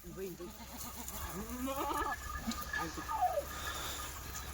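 Kathewadi goats bleat in short, wavering calls at a livestock sale, fairly faint against a steady outdoor background, while someone talks over them.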